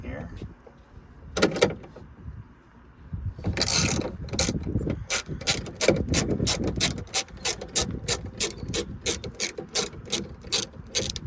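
Ratchet clicks in a rapid, steady series as a bolt is backed out of a 2002-2009 Chevy Trailblazer door during window regulator replacement, close and crisp after a few scattered clanks.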